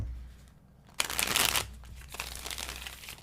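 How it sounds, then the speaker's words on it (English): A deck of tarot cards is riffle-shuffled close by in quick crisp bursts of flapping and rustling, with a short pause between shuffles. "See, mad shuffling skills."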